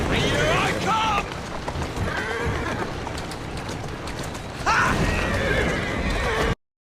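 Horse from Assassin's Creed Syndicate whinnies loudly twice, with clip-clop hooves and carriage rumble in between under a steady rain-like wash; no talk over it.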